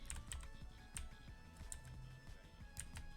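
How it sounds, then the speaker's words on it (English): Computer keyboard keys click in quick irregular bursts during a Fall Guys tournament, close and fairly quiet, with no talking. "You can hear the keyboard click."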